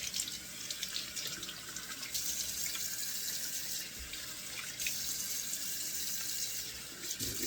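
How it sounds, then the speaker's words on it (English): A bathroom tap runs and splashes as someone rinses their face after a shave, a soft steady rush of water with small surges throughout. "Now let me rinse this off."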